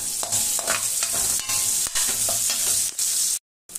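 Garlic and spices sauté and sizzle in a hot pan for a chicken curry, with a steady close frying hiss and scraping stirs throughout before the sound cuts off near the end.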